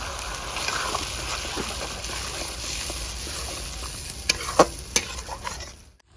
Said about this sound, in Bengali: পেঁয়াজটা একটু ফেলে নেওয়া ভালো করে এবারে দেবো কাজু বাটা